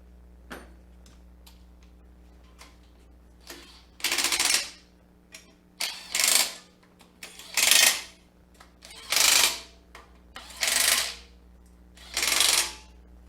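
A wrench tightens bolts on a Subaru WRX engine block in a quiet workshop, starting with scattered light metallic ticks and clicks, then six loud rasping ratchet bursts at roughly even intervals, close up over a steady low hum.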